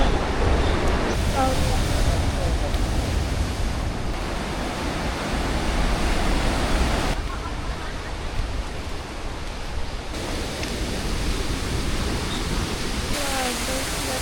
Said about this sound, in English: there's like the waterfall. And it connects to the sea